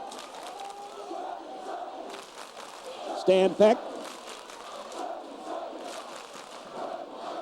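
Large crowd at a high school sectional basketball game, a steady roar of voices and cheering through a gym, with two brief louder bursts midway and a commentator speaking over it.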